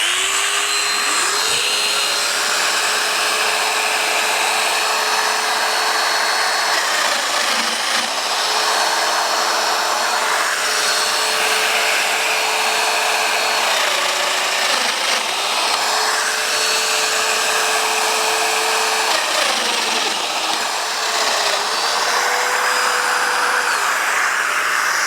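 A domino joiner cuts mortises for 40mm dominoes in wood for a laminated coffee table top. It gives a loud, continuous high whine that dips in pitch at intervals as each plunge cut bites in, close and unbroken.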